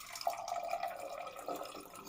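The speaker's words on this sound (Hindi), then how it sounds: "उसके बाद इसमें हम पानी डालेंगे।" Water is poured into a bowl of atta dough mix for Sindhi puri, a soft, close trickle with small splashy drips, quiet and without talk.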